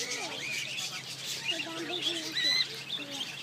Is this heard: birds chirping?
yes